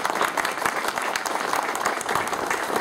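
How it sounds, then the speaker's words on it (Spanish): A crowd applauds steadily, dense clapping at an even level from start to finish, at a municipal DIF inauguration in Miahuatlán, Oaxaca. "para quien pido un fuerte aplauso"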